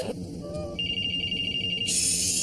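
A phone ringtone plays through a car's Bluetooth speakers, a steady electronic ring repeating for a couple of seconds over road rumble inside the moving car, ending in a brighter burst of noise.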